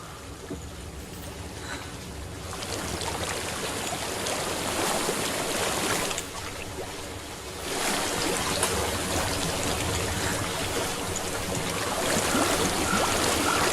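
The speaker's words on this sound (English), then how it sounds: "I hear water." A flowing stream in the video game Hellblade: Senua's Sacrifice rushes and trickles steadily, a dense broad wash of water that swells slightly louder partway through, with no talking.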